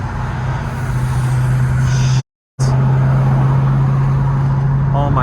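Inside a BMW M3 on the freeway, a loud, steady road and engine drone with a constant hum continues without any rise in pitch, briefly cut by a gap of silence.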